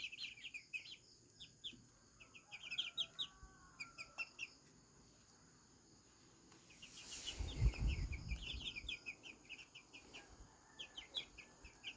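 Chickens and chicks on a Filipino farm make repeated soft clucks and high chirps at a distance, with a brief low rumbling burst partway through and no talking.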